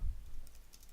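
Computer keyboard typing of annotation text, a brief run of soft, quiet key clicks over low background hum, no voices.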